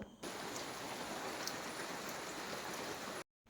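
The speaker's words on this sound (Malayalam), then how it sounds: "ദേ മഴ മഴ തന്നെ മഴ ഇപ്പോൾ കുറേ ദിവസമായിട്ട് അങ്ങനെയല്ലേ" Early-morning rain pours steadily in a soft, even hiss with faint drop patter, continuous and moderately distant, then cuts off abruptly near the end.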